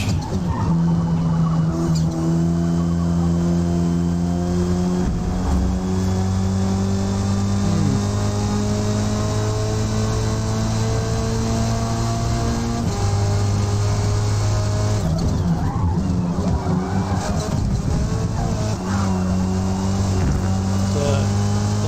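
A race car engine in Forza Motorsport drones steadily and loudly throughout, its pitch rising and falling as the car accelerates and shifts through corners, with brief drops and surges and someone talking over it at times.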